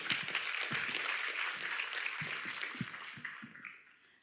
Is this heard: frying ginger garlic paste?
no